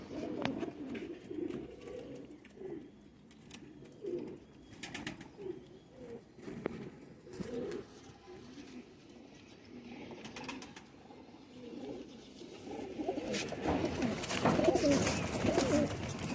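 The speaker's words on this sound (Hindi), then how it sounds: "ये देखिए दोस्तों, ये हैं रामपुरी कबूतर दोस्तों सारे" A flock of Rampuri pigeons coos steadily in low, throaty murmurs, with occasional wing flaps and clatter, and the cooing swells louder near the end.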